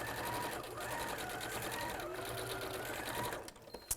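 A sewing machine runs steadily while top stitching around a fabric project, a continuous mechanical whir and needle chatter under a voice, then slowing and stopping near the end.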